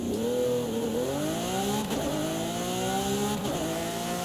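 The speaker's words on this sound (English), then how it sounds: "I wanted to see if they got it at least a little bit close in this game with this V12 sound" An Italian exotic car's V12 engine in Forza Horizon 5 revs steadily with a smooth, high-pitched wail, climbing and dipping in pitch across several gear shifts, loud and continuous with no talk.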